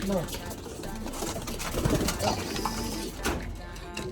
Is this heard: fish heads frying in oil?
no